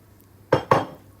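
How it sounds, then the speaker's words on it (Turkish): Cubed pumpkin tipped into a cooking pot lands in two quick clattering thumps, one right after the other, close by in an otherwise quiet kitchen. "Uygun bir tencerenin tencereye bal kabağını ekliyorum."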